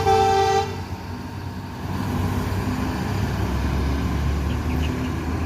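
A vehicle horn toots once briefly on a road, followed by steady traffic and engine rumble.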